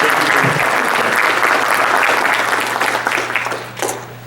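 At a community organization's anniversary gala, a banquet audience claps loudly for elected officials, a dense, sustained burst that thins and fades over the last second with a few scattered claps.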